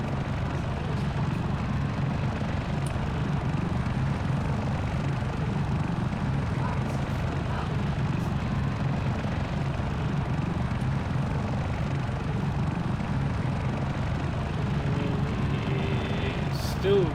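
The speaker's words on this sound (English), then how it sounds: "He is stabilising the heli." A helicopter hovers in a military simulation video game, its rotor giving a steady, close, low throbbing drone that holds at an even level throughout, with no talk over it.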